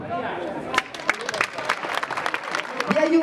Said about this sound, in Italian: Facciamoci un applauso.